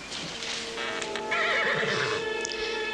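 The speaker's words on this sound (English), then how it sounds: "Such a lovely horse, I couldn't resist making friends with him." A horse on a country property gives a loud, sustained neigh close by, with hooves clip-clopping softly underneath and no voices.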